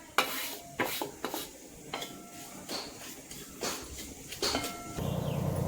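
A spoon stirs coarse semolina (rava) being dry-roasted in a pan for ragi ladoo, giving close, irregular scrapes and clinks against the metal, with a low steady hum joining near the end.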